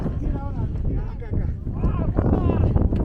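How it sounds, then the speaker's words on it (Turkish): Heavy wind on a mountain about 5,000 m up in Peru buffets the microphone with low roaring gusts while a person talks over it close by. "Çok rüzgarlı burası tabi."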